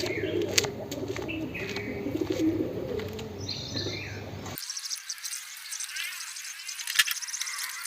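Wild pigeons on a rooftop coo softly at a distance over mixed outdoor background noise and a few chirps, with the sound shifting to a thinner, quieter backdrop partway through.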